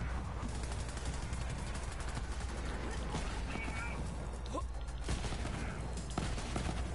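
Rapid gunfire from a weapon in the game Borderlands 3, a dense continuous burst of shots running throughout amid other game effects, with talk present.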